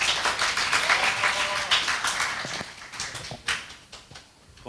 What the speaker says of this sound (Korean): 이때까지 어디 가서 얘기할 때 그렇게 함성까지 박수를 받아본 적은 처음입니다.